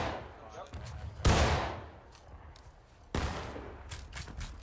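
Musket volleys crackle in the Civil War battle game War of Rights at Antietam, two loud rolling bursts of massed fire with fainter scattered shots between, heard over quiet background voices.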